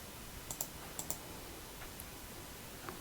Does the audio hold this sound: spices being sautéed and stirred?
no